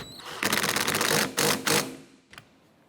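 Nut on the rear wiper arm of a 2007-2012 Nissan Versa being tightened with a tool, a few close rapid clicking bursts of about a second each, then a final short click, with no talking.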